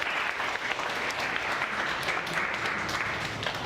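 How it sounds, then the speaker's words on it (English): A seminar audience on persuasive speaking applauds in a dense, steady wash of many hands clapping together, sustained and fairly close for the whole stretch with no talking over it. "give you a round of applause."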